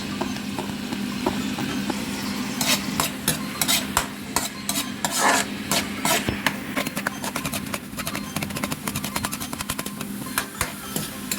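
Onion and garlic sauté in a hot pan for seafood pansit bihon, a continuous sizzle of frying broken by rapid scraping and clacking of a utensil stirring, close and steady, no talk.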